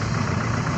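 A milk seller's motorbike on a road near Dhanushkodi gives a steady, loud, close engine drone with a rough mid-low rumble that holds even throughout, with no voices.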